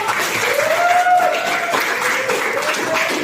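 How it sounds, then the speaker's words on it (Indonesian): A classroom of students claps for a group presentation, a dense steady patter of hands with a thin tonal voice or whistle rising above it, filling the whole moment. "kita beri tepuk tangan dulu"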